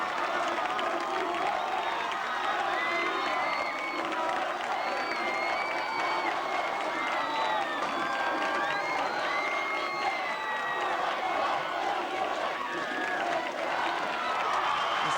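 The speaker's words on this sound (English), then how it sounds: "The crowd's showing their support right now for the Vikings." Crowd at a high school football game cheering for the Vikings, a continuous distant roar of voices and clapping with scattered whoops, steady and moderately loud throughout.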